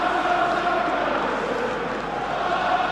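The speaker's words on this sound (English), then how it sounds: "Big favourite, as you can hear with the crowd here." Football crowd at a Premier League match between Everton and Liverpool, a steady, dense roar of many voices that holds loud and unbroken throughout.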